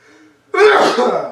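A single loud, close sneeze bursts out after a few moments of quiet, low background murmur, its breathy spray trailing off over about a second.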